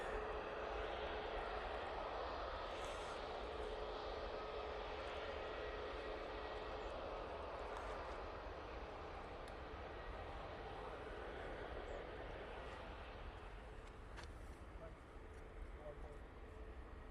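An Emirates airliner jet takes off at a major airport, a steady broad engine roar holding at moderate level throughout and fading slightly near the end, with some faint talk mixed in.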